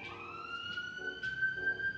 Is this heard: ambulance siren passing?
yes